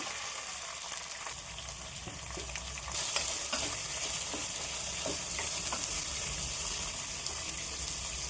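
Curry leaves and onion fry in hot oil for tamarind chitranna, a continuous close sizzle that jumps louder and brighter as fresh ingredients hit the pan, with faint stirring taps beneath.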